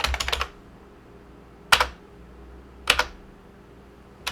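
Quick bursts of typing on a computer keyboard sound close and crisp: a short flurry of keystrokes, then single sharp key presses spaced about a second apart, as a command is entered on a Debian desktop styled like Windows XP.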